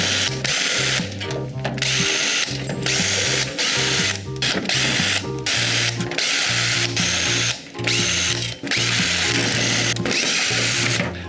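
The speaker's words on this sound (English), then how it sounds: "I've gone and taken all the screws out of the back" A computer case being stripped for e-waste as a power driver whirs in loud bursts with ratcheting stops and starts, backing screws out of the rear panel one after another, close and continuous.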